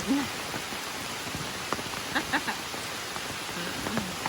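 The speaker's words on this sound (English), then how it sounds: "the rain do what it will do for a while" Rain falling steadily on a hiking trail between Damascus and Virginia Route 600, with scattered drips and patters close by, a soft even hiss throughout.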